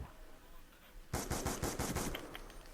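Black Ops 2 video game gunfire: after a second of quiet, a loud, rapid burst of about eight close shots rings out in quick succession, followed by a fading echo.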